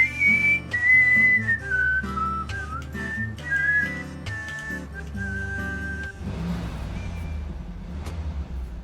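The whistled theme tune from the video game Deadly Premonition plays as a clear melody over soft backing chords and bass, then fades into a lower, murky instrumental passage.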